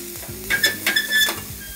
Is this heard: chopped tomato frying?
yes